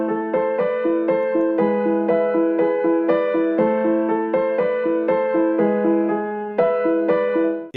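Vintage-style sample of two piano chords played as steady arpeggios, a continuous rippling pattern of rolled notes that runs throughout at even level with no voices.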